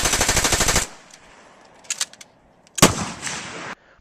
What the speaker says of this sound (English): I was armed with a Heckler & Koch MP5, which has two fire modes, semi and fully automatic